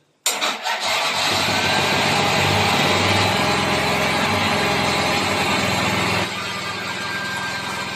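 An engine cold-starting after sitting for a year catches abruptly and roars on loudly at a steady high rev, with the self-starter relay still running underneath; the level drops slightly toward the end.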